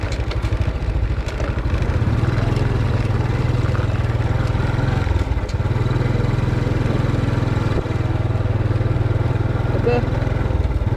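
Motorcycle ridden through the daytime streets of Jalan Sentul in Pematang Siantar, its engine droning steadily and loud from start to finish, a low harmonic hum with a brief dip midway and faint traffic and voices around.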